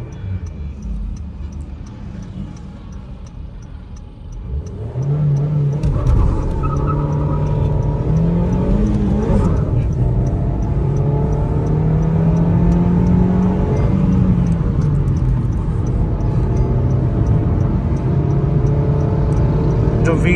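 A fourth-generation Honda City's VTEC engine revs up in first gear toward its 4,500 rpm limit in traffic, rising into a strained whine before levelling off, with ticking and cabin noise around it.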